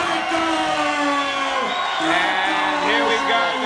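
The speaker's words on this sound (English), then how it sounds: "coming out to a crowd like that, all cheering for it" An arena crowd at a combat fight event cheers and whoops loudly and steadily as the fighter walks out, a dense roar of many voices sustained throughout.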